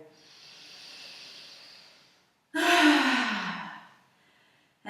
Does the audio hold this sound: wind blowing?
no